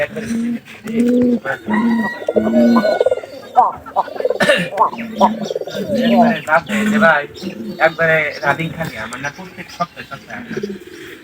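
Breeding pigeon pairs gathering straw to nest before laying eggs give repeated low, rolling coos close by. Someone talks over them throughout, and a few chirps are scattered in.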